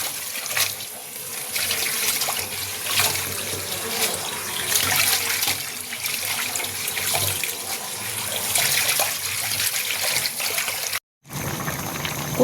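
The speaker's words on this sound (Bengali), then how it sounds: "আমি পালং শাকগুলো এখানে বেশ করে ধুয়ে নিচ্ছি" Spinach leaves washed under a running kitchen tap, a steady hiss and splash of water with shifting gurgles as the leaves are handled, cut off abruptly near the end, no one speaking.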